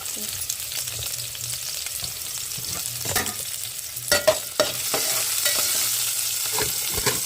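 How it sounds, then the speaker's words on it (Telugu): Onion pieces sizzle steadily in a pan in a village kitchen, with a few louder clinks and stirring knocks near the middle, and no talking. "ఇంకా ఫ్రై అవుతున్నప్పుడే మారుతాయి అని చెప్పి ఉల్లిపాయ ముక్కలు కూడా వేసుకున్నాను"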